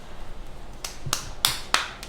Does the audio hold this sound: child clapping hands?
yes